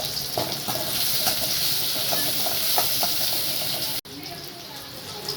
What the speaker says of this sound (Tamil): எண்ணெய் ஊற்றி சீரகம் போட்டுக்கலாம். கொஞ்சம் சீரகம் பொரிஞ்சதும் வெங்காயம், சின்ன வெங்காயம் போட்டுக்கலாம்.